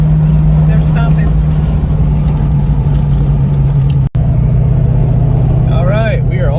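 A 1988 LX 5.0 hatchback travels along a highway, its low, even engine and road drone heard steadily from inside the car. A brief dropout cuts in near the end, followed by faint wavering tones.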